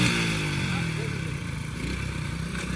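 Motorcycle engine revving loud and close during a competition round, a sustained roar that slowly eases, with crowd noise around it.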